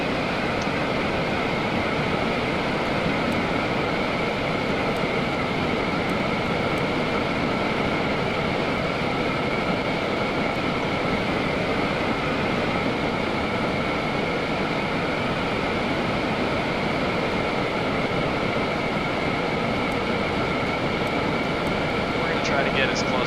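A rocket-powered quadrocopter craft in the Scrap Mechanic video game flies and comes in to land, giving a steady, loud engine roar with a constant tonal hum that runs without a break.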